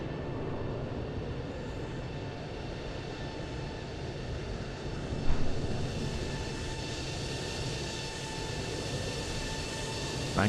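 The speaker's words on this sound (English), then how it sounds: "Here comes the A330." Airbus A330 airliner passing in Microsoft Flight Simulator, heard as a continuous broad engine roar holding steady for about ten seconds, moderately loud, with a slight swell midway.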